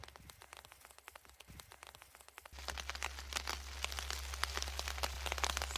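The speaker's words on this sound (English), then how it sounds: "Here comes the rain on cue." Rain falling outdoors during a spring painting session, starting as light scattered drops and suddenly turning into a steady, louder patter and hiss about halfway through.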